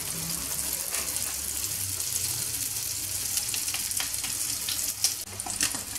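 Sfenj dough fries in hot oil with a loud, dense hiss and crackle that runs steadily throughout, punctuated by sharper pops near the end.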